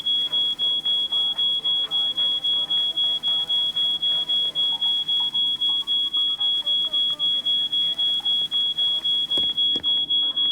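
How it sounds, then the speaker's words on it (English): Smoke alarm set off by burnt toast in a kitchen, sounding a steady high-pitched tone under faint background clatter and voices, with rapid repeating pulses throughout. "We need to do something about that alarm."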